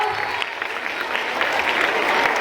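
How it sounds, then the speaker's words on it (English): A crowd at a Bharatanatyam workshop claps steadily and densely throughout, a sustained round of applause with no break. "Give a big round of applause for her."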